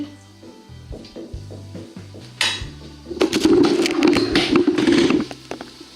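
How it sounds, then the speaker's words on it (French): Vegan sufganiyot doughnut dough is lowered with a strainer into hot oil in a small saucepan; a few knocks and clinks come first, then a loud, steady sizzle and bubbling of frying that fades near the end. "on vient soulever le plus délicatement possible notre beignet avec une passoire et on le plonge"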